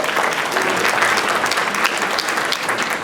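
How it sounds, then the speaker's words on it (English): A large audience applauds steadily and fairly loudly, dense clapping holding an even level from start to finish. "please again give her a big round of applause"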